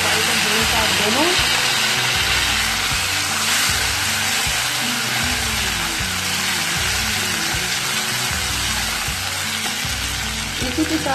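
Chopped green onion, white and green parts together, frying loudly in a pan for a saag with potato and spinach, a dense continuous sizzle broken by rhythmic stirring scrapes throughout.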